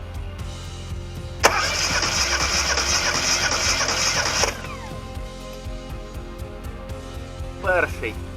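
A 1988 ZAZ Tavria engine with a suspected fault cranks over during a compression test for about three seconds in a rapid, rhythmic whir, then stops; a short second crank follows near the end.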